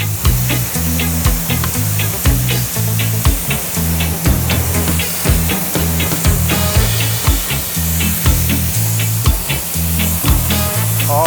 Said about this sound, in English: I want to hit it with the pressure washer